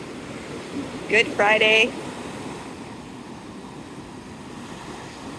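Steady surf and wind-blown wash at Navarre Beach on a gray, breezy day, a continuous soft broadband roar with a person briefly speaking over it.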